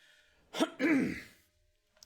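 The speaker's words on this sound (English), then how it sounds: "A little cough there." A single short cough, close and fairly loud, followed by quiet.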